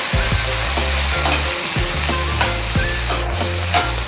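Mung beans tossed into a hot pan, a loud steady sizzle of frying with scraping stirring strokes repeating throughout, close up and without talk.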